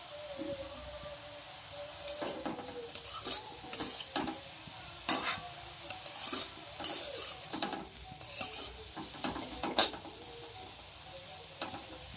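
A utensil scrapes and clinks intermittently against a pan as food fries with a faint steady sizzle, each stir a short sharp burst of metallic clatter in a home kitchen.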